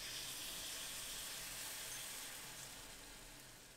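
Chicken broth poured into a cooking flour mixture for chicken pie bursts into a steady, hissing sizzle with steam, continuous and close, slowly easing toward the end.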